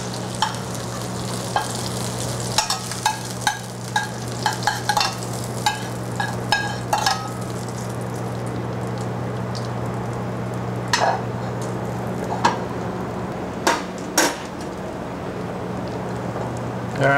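Crab cakes fry in a skillet while being basted with butter, a steady close sizzle running throughout, punctuated by irregular scraping and tapping of a spoon against the pan.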